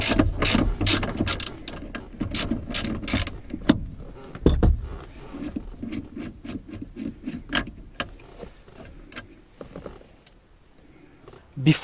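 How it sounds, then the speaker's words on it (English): A ratchet clicks repeatedly while undoing the steering wheel center bolt on a Mercedes-Benz W116 with a 22 socket, rapid bursts of sharp close ticks alternating with pauses and rubbing handling noise. "Now we're gonna remove that center bolt with a ratchet number 22."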